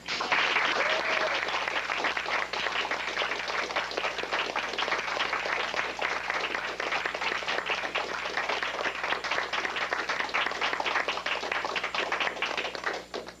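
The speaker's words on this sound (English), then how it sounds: "a round of applause" Steady, dense round of applause from the audience at a 1998 Toastmasters accolades meeting, continuous and even throughout, moderately loud and alone without speech.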